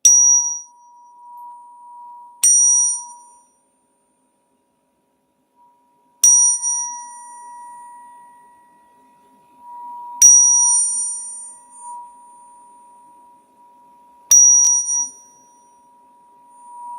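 Four bright metallic strikes ring out at even intervals, each leaving a clear, sustained tone that slowly fades in the quiet between them.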